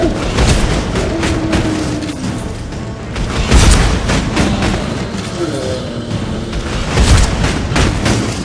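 Deep booming grenade blasts from Mass Effect 2 aboard the Collector Ship erupt twice amid ongoing combat fire, with voices heard between them.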